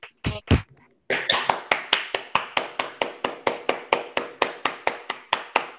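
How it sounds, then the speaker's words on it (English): A single person claps steadily and close to the microphone in an online meeting. Around twenty regular, evenly spaced claps follow a few brief knocks at the start. "ask my colleagues to unmute and give a round of applause"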